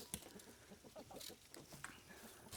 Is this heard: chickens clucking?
yes